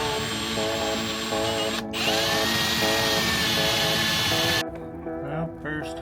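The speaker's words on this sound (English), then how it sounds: "first hole is drilled to the metal through the fiberglass" A power drill bores through thick fiberglass to the metal beneath during boat chain plate work, whining loudly in steady bursts with brief pauses and pitch shifts as the bit bites and stops.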